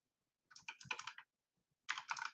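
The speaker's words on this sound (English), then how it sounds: "I'm typing with one hand." Typing on a computer keyboard with one hand, two short bursts of quick clicking keystrokes separated by a pause, close and fairly quiet.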